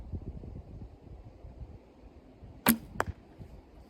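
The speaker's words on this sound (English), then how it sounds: "if you heard the little ting, like a little metal click, again, that's that clicker after the shot" An arrow leaves a Black Hunter longbow at about 15 yards with a sharp, close snap, followed a moment later by a short metallic ting from the bow's clicker, over quiet outdoor background noise.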